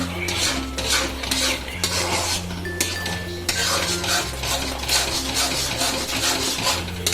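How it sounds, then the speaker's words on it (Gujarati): A spoon scrapes and stirs Karachi halwa steadily in a pan, with repeated rubbing strokes and faint sizzling beneath a low steady hum. "હવે જરાક ફાસ્ટ કરી લઈ અને ખૂબ સરસ રીતે ચલાવી લઈ"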